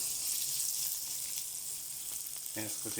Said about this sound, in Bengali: দিয়ে দিচ্ছি চিকেন একটু তেলের মধ্যে পেঁয়াজের সাথে একটু ফ্রাই করে লই